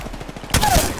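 Gunfire in the Apex Legends Shadow Royale zombie mode, a sudden loud close burst of shots cutting in midway through and ringing on to the end, preceded by a quieter rhythmic clatter.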